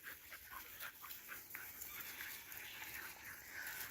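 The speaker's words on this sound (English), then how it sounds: "That is a 14-year-old dog right there, folks." A 14-year-old dog pants quietly and rapidly outdoors, a faint, steady rasp of breathing that continues throughout.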